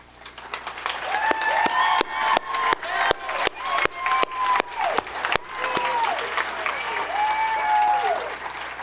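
Applause from a graduation ceremony audience honoring first-generation graduates and faculty, a broad sustained clapping from a large crowd, with a few louder nearby claps and faint voices mixed in.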